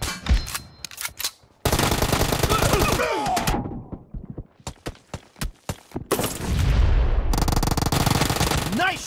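Bursts of automatic gunfire and single shots from a team deathmatch shooter game, loud and close, firing in rapid volleys with short gaps, with voices talking over some stretches.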